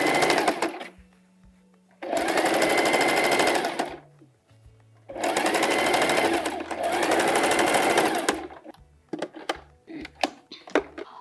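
A sewing machine stitches the lower edge of a pair of short pants in two long, loud, steady runs, with a short pause between them, followed by scattered clicks and handling noises.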